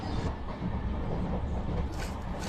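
Steady rumble and rattle of a passenger train rolling along its rails, heard from inside the carriage; a dense, continuous roar with no voices.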